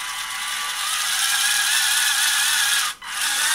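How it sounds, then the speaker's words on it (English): A small worm gear mechanism with a 3-to-1 reduction drives the swing arm of a prototype model, giving a steady high-pitched mechanical whir and ratcheting buzz that runs continuously and close, with a momentary dip near the end. "here you can see the operation of the mechanism. It's rather simple, just a worm gear with a 3-to-1 reduction"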